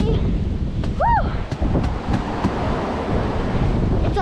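Strong wind buffets the microphone with a heavy, continuous roar during a New York snowstorm, outdoors in the cold; a brief high squeal cuts through and faint voice-like sounds sit under the gusts.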